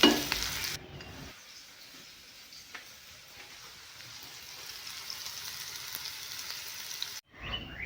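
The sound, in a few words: frying salt and turmeric in a pan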